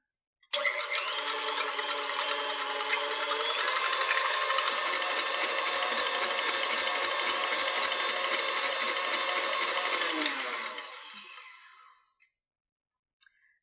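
Electric whisk beating egg whites with sugar for an Eton mess, a steady continuous motor whir with rattling of beaters against the bowl, growing slightly louder midway and running alone for about ten seconds before stopping.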